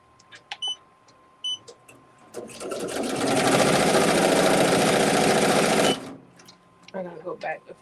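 An embroidery machine stitching a Valentine's Day design runs in a loud, steady rapid burst of about three seconds. A few short clicks and some speech come before and after it.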